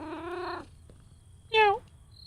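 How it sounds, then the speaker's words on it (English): A cat in a horror video game gives two distinct meows, a longer one at the start and a shorter, higher one later, with quiet gaps around them. "Oh, it's a cat."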